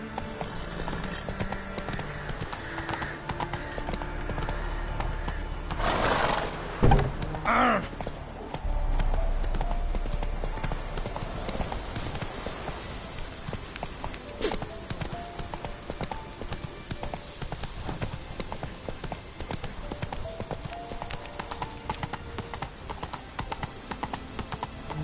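Roach, a horse in the video game Witcher 3, gallops with steady clip-clop hoofbeats, with a brief whinny early on and game ambience continuing throughout at a fairly even, moderate level.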